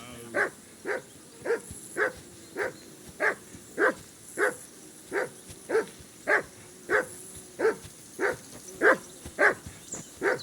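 A dog barks in Kingdom Come: Deliverance 2, a steady run of about eighteen evenly spaced, loud, close woofs with no talk between them.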